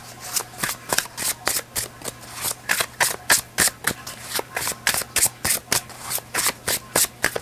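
Tarot cards are shuffled close up in a rapid, regular series of riffling bursts, about two per second, crisp and alone over a faint low hum.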